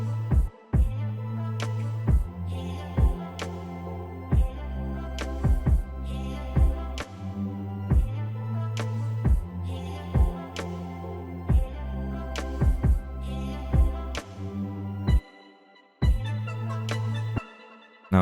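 Edited snare percussion hit in an Ableton Live future bass intro, repeating in a steady rhythm over sustained bass and synth chords, with a brief dropout near the end.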